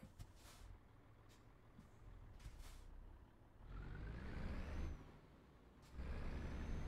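A truck in Euro Truck Simulator 2 gives a few short hisses of its air brake, then its engine rumbles louder as it pulls away, and another hiss and rising engine noise follow near the end.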